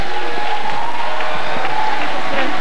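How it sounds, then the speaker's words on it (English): A church congregation applauds the Lord during a worship service, giving a sustained round of clapping mixed with crowd noise and a few cheers for under three seconds. "Why don't we give the Lord a big round of applause?"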